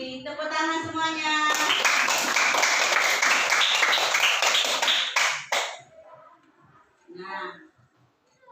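Children in a classroom clap their hands together in a loud, dense burst lasting about four seconds. A teacher's voice is heard before and after the clapping.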